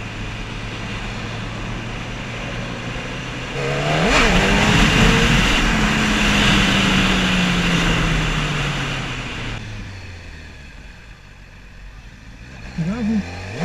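A motorcycle revs up as the clutch is released for a wheelie, its engine swelling to a loud, rising roar that holds for several seconds and then fades away, with talk around it.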